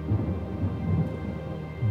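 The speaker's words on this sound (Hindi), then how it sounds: "इतनी अच्छी बारिश हो रही है, मजे की बारिश।" Steady rain pours down with a low, rolling rumble of thunder running underneath, a dense, continuous wash of sound with no voices.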